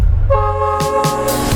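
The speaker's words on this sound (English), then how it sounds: "We caught a train up." Train heard up close with a loud, sustained horn blast over a low rumble, the tone briefly broken by short bursts of noise, with no talk.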